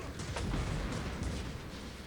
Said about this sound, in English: Lovely nostalgic explosions.